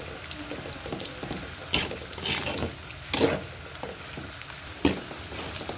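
String beans for adobong sitaw are stirred in a hot pan, giving a soft continuous sizzle with scraping stir strokes and a few sharper clinks of the utensil against the pan.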